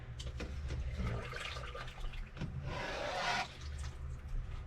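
Liquid for staghorn sumac tea is dumped through cheesecloth into a pan, a steady close rushing and splashing pour that swells into a louder gush near the end, with no speech.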